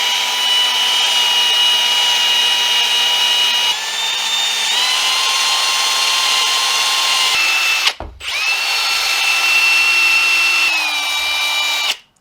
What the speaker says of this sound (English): I have the drill on a really low speed